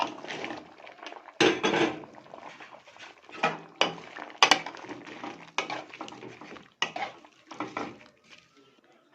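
Onion dropped into a pot of meat being cooked for Egyptian pot kebab, a series of close clattering knocks and scrapes of ingredients and utensils against the pot, with brief quiet gaps.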